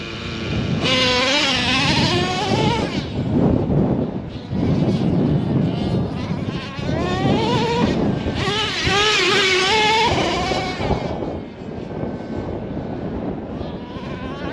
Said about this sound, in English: Listen to that idle, just so low right now.